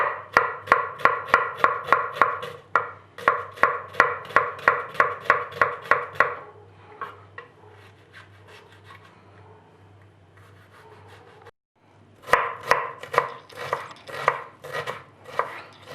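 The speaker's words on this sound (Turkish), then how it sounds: "Çok ince doğramaya özen gösteriyoruz." A knife taps rapidly and rhythmically on a cutting board while finely chopping red pepper, then pauses for several seconds before the quick chopping resumes.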